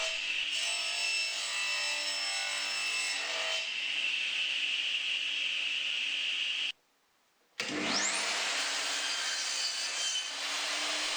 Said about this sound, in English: So I ripped all the pieces at the table saw and then cross-cut them at the miter saw.